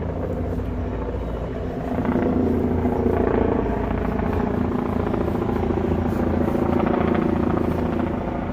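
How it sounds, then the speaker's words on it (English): A helicopter flies over Lower Manhattan, a continuous buzzing, thudding drone that grows louder after a couple of seconds and holds steady above city street rumble, with no talking. "Here goes a helicopter."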